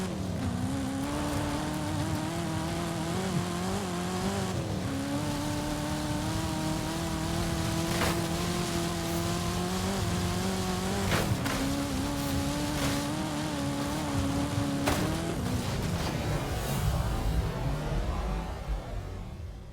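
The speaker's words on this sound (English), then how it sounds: "Just spinning my wheels here, off-road in the Camaro" A Camaro in a video game spinning its wheels off-road, with a sustained engine drone that steps up and down in pitch across several revs and tire noise under it, loud and continuous.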